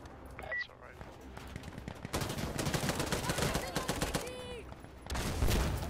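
Rifle gunfire in the multiplayer shooter Insurgency Sandstorm, rapid cracking shots in bursts running through the clip, louder toward the end, with game sounds mixed in.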